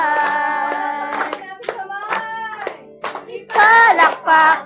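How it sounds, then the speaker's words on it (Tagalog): Hands clap along to a sung worship song in Tagalog, with sharp claps marking the beat beneath loud, close singing voices. "Palakpak ang iyong kamay, itaas at ikawan"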